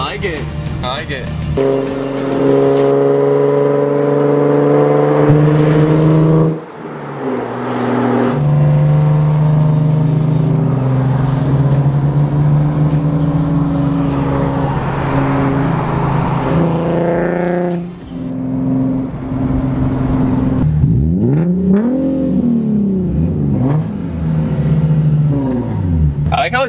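A Nissan 370Z fitted with a cheap aftermarket eBay exhaust revs loudly and close up, its engine note rising and falling in repeated surges, with people talking over it at times.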